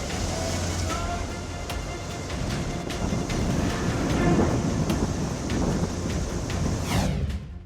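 Heavy rain pours down as Cyclone Remal makes landfall on the West Bengal coast, a loud, steady broadband roar throughout with occasional sharp cracks and rumbles, building slightly toward the end.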